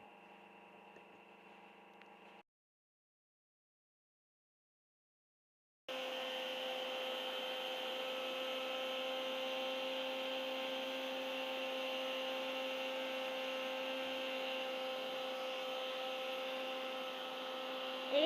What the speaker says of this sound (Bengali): এই দেখুন এটা দিয়ে গুঁড়ো লঙ্কা বানাবে